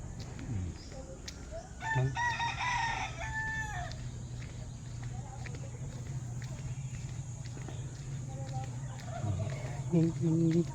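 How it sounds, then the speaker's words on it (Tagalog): A rooster crows loudly nearby with chickens clucking around it, steady outdoor ambience underneath and a voice speaking briefly. "mga manok dito."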